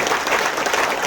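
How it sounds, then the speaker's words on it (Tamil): An indoor audience at a business training session claps loudly and steadily in a short, dense burst of applause. "கைத்தட்டு கொடுக்கலாம்"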